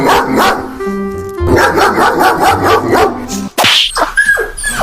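A dog barks repeatedly and loudly up close, sharp yaps in quick bursts, with a brief whimpering yelp near the end.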